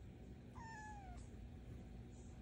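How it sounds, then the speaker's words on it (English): A domestic cat gives a single drawn-out meow with a falling pitch, fairly close and clear over a steady low background hum, with no one speaking. "You did not have to meow so much, okay?"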